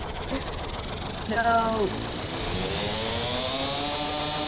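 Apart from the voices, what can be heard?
vehicle engine revving loudly in a video game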